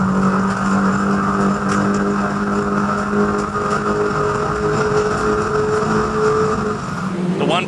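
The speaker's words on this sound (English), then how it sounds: "The turbocharged minis off and running towards turn 1, and a pretty even start." A pack of turbocharged 1.6-litre MINI race cars roars off the start at Eastern Creek toward turn 1, a loud, sustained, layered engine drone with a brief tire squeal near the end.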